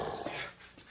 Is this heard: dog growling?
yes